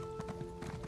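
Horse hooves clip-clop in a quick, even rhythm from a ridden horse in The Elder Scrolls Online, heard over a steady game hum in a brief burst.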